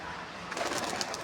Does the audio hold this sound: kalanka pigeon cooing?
yes